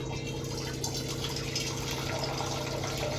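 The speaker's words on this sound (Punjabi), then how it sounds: "ਹੁਣ ਆਪਾਂ ਰੱਖਾਂਗੇ ਪਾਣੀ" Water pours steadily into a cooking pot at close range, a continuous gushing, filling splash with no talk over it.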